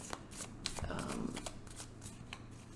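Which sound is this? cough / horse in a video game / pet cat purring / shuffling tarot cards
shuffling tarot cards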